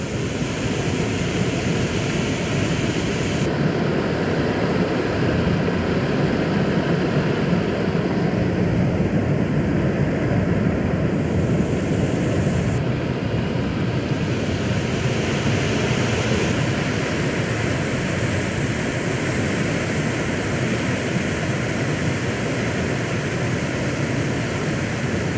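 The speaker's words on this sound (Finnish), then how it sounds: "Täältä kuului merkillistä, tai kuuluu edelleen merkillistä luonnon ääntä, tämmöistä oikein jylinää." A rumbling waterfall in a forest pours steadily, a loud dense roar of falling water that stays constant and close, with no other sounds over it.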